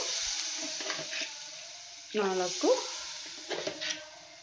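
Vermicelli and millet laddu mixture being stirred with added water, giving short scraping and sloshing bursts of mixing in a pot, mid-close, with quiet pauses between strokes and no talk.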